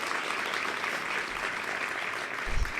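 A crowd claps steadily throughout, a dense wash of applause with no voices standing out.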